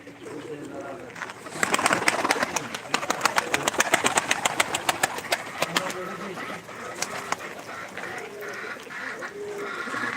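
Pigeons cooing and fluttering in a crowded loft, with a dense burst of wing claps and calls in the middle, while someone talks over the birds.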